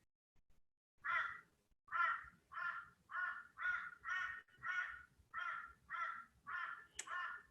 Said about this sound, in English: And the crows outside want to say the same thing.